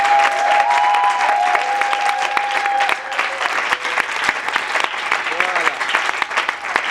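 A church congregation claps in sustained, dense applause acclaiming the Lord, loud and close, with a voice talking over it and a sustained tone held through the first few seconds.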